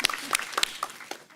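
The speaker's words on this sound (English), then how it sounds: "clapping." A few scattered, sharp claps ring out at a public policy forum, irregular and fairly close, fading toward the end.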